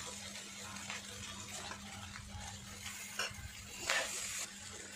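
Rice with vegetables being stir-fried in a pan: soft sizzling under scraping, stirring strokes and a few louder clatters of the spatula, close and fairly quiet.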